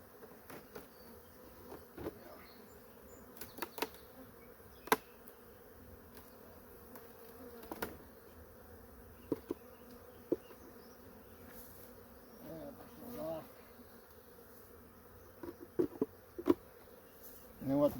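Honeybees buzz steadily around a hive, a low droning hum with individual insects passing close by, punctuated by occasional soft knocks and handling noises.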